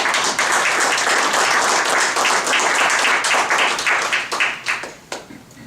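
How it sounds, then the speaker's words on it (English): A round of applause welcoming a speaker at a business association meeting in Chicago, loud dense clapping from the audience that thins into a few scattered claps and fades out near the end. "So please have a round of applause and welcome Patricia."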